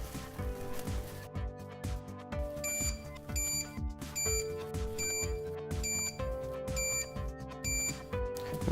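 Prizrak car alarm module sounding short confirmation beeps as analog steering-wheel buttons are pressed. A series of crisp, evenly spaced electronic bleeps repeats over a steady ticking background, moderately quiet, with no talking.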